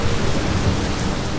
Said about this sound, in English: We have very heavy rain falling in southeast Texas